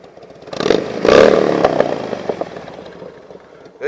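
A motorcycle engine nearby revs up sharply, then rumbles and sputters as it settles, with some clattering noise mixed in.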